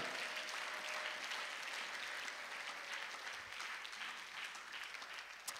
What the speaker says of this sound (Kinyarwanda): ndagira ngo dukomere imana amashyi menshi cyane tuyishimira